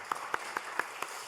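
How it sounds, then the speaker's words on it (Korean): A church congregation bursts into applause during a Sunday sermon, heard as five or so sharp, evenly spaced clap bursts rising above a steady murmur of room noise. "박수 한번 주시죠. 박수."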